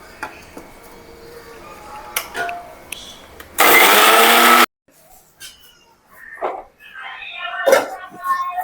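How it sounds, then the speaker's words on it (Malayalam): A kitchen mixer grinder whirs loudly in one short burst of about a second while grinding flattened rice (aval) and coconut, set between quieter clatter and background sounds before and after. "കുറച്ച് അവലും കുറച്ച് തേങ്ങയും കൂടി ഇട്ട് പൊടിക്കാം"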